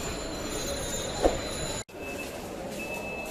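Steady rumbling hum of a metro train entering Motijheel metro station with a brief squeal of wheels, the sound cutting abruptly midway to a quieter station ambience with a thin tone.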